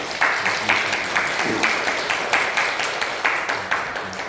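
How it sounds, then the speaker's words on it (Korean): Church congregation clapping together to welcome a visitor at a Sunday worship service, a rhythmic unison beat of hands repeating at a steady pace, moderately loud in a reverberant room. "따뜻하게 박수로 환영해 주시면"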